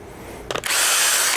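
A power drill briefly stutters, then spins up and bores steadily through a metal mounting plate for a motorcycle launch start device, a loud close high-pitched whir lasting under a second before cutting off.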